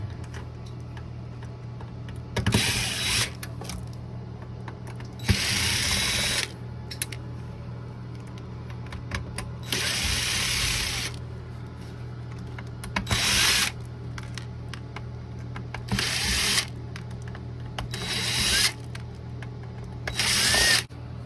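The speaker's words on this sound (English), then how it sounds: "You want to remove all the screws that you see around here." A power tool whirs in repeated short bursts of about a second each while screws are backed out around a Mitsubishi Outlander touch-screen unit, with quiet pauses and faint ticking between bursts; close, and no one talks.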